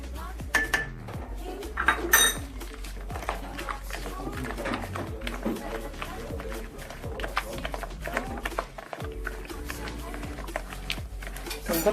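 Egg, salt and vanilla mixture beaten in a bowl, with a steady run of rapid clinks and scrapes of utensil against dish, lively and close, continuing throughout with small pauses.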